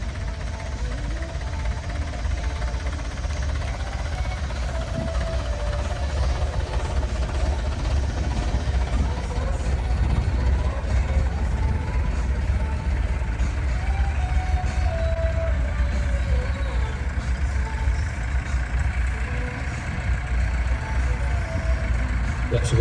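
Vintage Albion trucks drive round a steam fair ground at Castle Fraser, their engines giving a steady low rumble throughout with faint outdoor crowd background.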